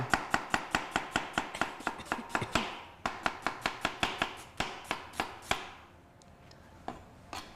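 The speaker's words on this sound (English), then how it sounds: "Cutting up the onions, we take the core out." A knife chops cored onions across the grain on a board in quick, even, close strokes, then pauses and lands a few scattered cuts near the end.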